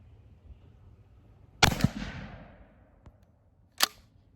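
A 12-gauge shotgun firing Sellier and Bellot 2.75-inch 12-pellet 00 buckshot outdoors, one loud blast with a long rolling echo, a faint click, then a second sharp shot.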